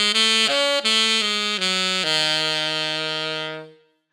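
Saxophone plays a short minor pentatonic lick with a lowered fifth in a jazz rhythm-changes setting: a few clear, bright legato notes that step downward and end on a long held tone that fades, heard solo and close.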